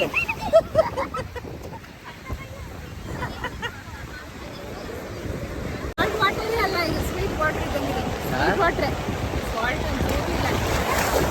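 Sea waves wash steadily at Delta Beach near Udupi, a continuous broad rush of surf and wind, with people talking nearby over the water.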